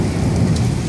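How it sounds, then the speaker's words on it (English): Close thunder in a severe thunderstorm with rain, a brief loud rumbling burst over the dense, steady hiss of heavy rainfall, with no voices. "Listen to this clap of thunder when it happens, dude."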